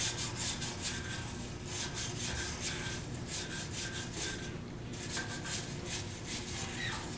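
A brass brush scrubs sawdust off the rubber tire of a bandsaw wheel, giving a steady close rasping scrub that runs on continuously with brief pauses.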